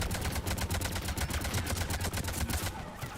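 Rapid automatic gunfire in a shooter game, a dense unbroken burst of shots at a fast even rate, loud and close, that cuts off just before the end.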